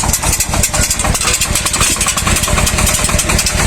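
Shifeng SF-240 mini tractor engine running loud and close while planting potatoes in a tilled, very wet garden, a dense continuous chugging drone with rattling mechanical clatter and no pauses.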